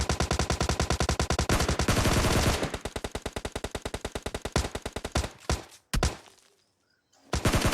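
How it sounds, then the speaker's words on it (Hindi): Rapid automatic gunfire from an enemy bot in a video game, long loud bursts of evenly spaced shots close by, slowing into scattered single shots before a brief silence and a final burst. "फिर तभी पीछे से एक बोट फायरिंग करता है।"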